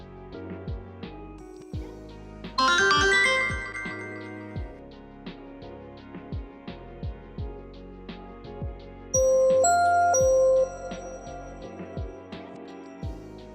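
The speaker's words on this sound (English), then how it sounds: "after each timer ends, there is a notification sound to notify the user that the timer has ended" A chiming timer notification melody from a Python program rings out twice, bright tinkling tones about six seconds apart, amid sparse regular clicking taps in a quiet setting.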